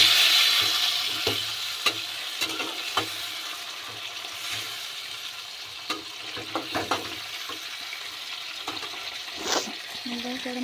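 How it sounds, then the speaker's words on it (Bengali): Tomatoes sizzle and fry in a pan for tomato chutney, with intermittent clattering strokes of stirring over a steady frying hiss, close and moderately loud, with no one talking. "তখন আমি টমেটোটা দিয়ে দিলাম। এটা নাড়াচাড়া করে নিলাম।"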